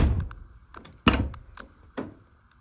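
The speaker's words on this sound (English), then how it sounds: "if I shut the door pretty hard, it doesn't move." A Mazda FC RX-7 car door is shut hard, giving a dull, solid thunk followed by a lighter clatter. A second thud comes about a second later, close and moderately loud, with no voices.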